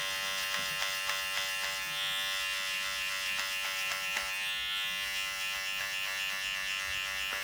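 Electric hair clippers buzz steadily against a scalp during a short buzz cut, a continuous close, moderately loud whine with small ticks and shifts as the blade moves over the head, no talking.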